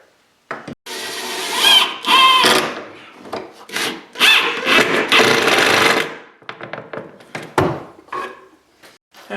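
A drawer slide is screwed onto a wooden cabinet with a power driver, making close, gritty whirring bursts of a screw biting into wood, separated by short pauses and light handling knocks.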